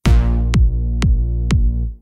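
Electronic bass note held for four beats across a whole bar, deep and sustained, with a kick drum striking four times on the beat before the sound cuts off.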